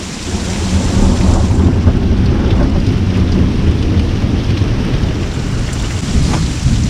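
A thunderstorm with heavy rain pouring steadily and deep thunder rumbling continuously underneath, loud and close throughout, with no voices.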